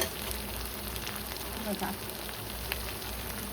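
Spices fry in a hot pan for an egg curry, a continuous hiss and crackle of sizzling oil heard up close, with someone briefly speaking over it.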